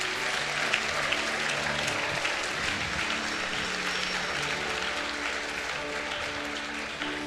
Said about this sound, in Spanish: ¿Alguien puede darle un aplauso fuerte a Dios?